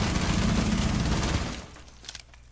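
A Bearing 9 submachine gun in Rainbow Six Siege fires a dense, rapid full-auto stream of shots, loud and close, cutting off after about a second and a half, followed by a few faint clicks.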